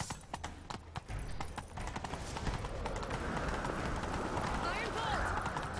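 Rhythmic hoofbeats of a galloping horse in The Witcher 3 pound steadily, mixed with a rushing, busy game soundscape and voices talking over it.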